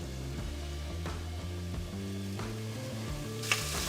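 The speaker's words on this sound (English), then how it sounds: "to fry the potatoes until the potatoes were rosy." Potatoes fry in a pan, a steady close sizzle running throughout beneath tonal background music.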